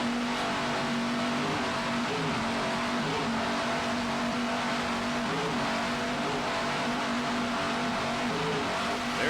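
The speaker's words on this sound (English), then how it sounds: "Just listen to those Raymont engines." Raymont engines of the 40-foot Skater offshore race boat How Sweet It Is roar during a 1995 race, a loud, steady, unbroken drone with slight rises and falls in pitch and no voices.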